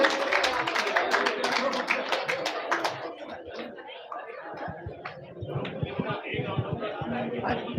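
A crowd claps in applause at a Kabir Jayanti religious gathering, dense and loud for a few seconds before thinning into scattered claps and murmuring voices.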